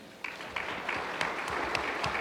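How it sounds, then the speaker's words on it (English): Conference audience clapping at an opening session, moderately faint and steady, with a few sharper individual claps standing out against the dense patter. "Let's give a round of applause for Good Maps and Be My Eyes."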